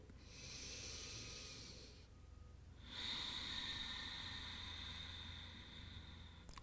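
Slow, steady breaths drawn during a relaxed yoga forward fold, two soft airy exhales a couple of seconds apart, close and quiet with a faint hiss, no talking.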